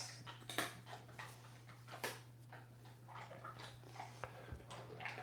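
A pup whimpers and whines in short, faint bursts scattered through a quiet indoor room, over a steady low electrical hum, with no talking.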